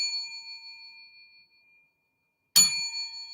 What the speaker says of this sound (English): The 10-bell salute